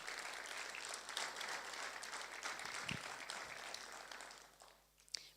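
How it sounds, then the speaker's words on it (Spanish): A church congregation applauds steadily for about five seconds, a dense even patter in a large room that thins and fades at the end. "un aplauso para el Señor."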